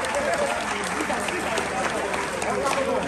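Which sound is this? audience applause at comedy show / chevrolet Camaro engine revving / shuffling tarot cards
audience applause at comedy show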